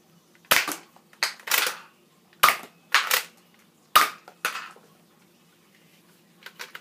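X-Shot toy blaster firing foam darts: about eight sharp, loud pops spaced irregularly, some in quick pairs, with quiet gaps between and no talk.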